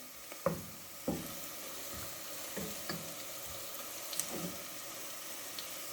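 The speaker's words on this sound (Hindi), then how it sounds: "प्याज हमारा ऑलमोस्ट फ्राई हो गया है।" Onions frying to golden in a pan for turnip meat curry, a steady soft sizzle with occasional louder crackles and stirring taps, fairly quiet and without talk.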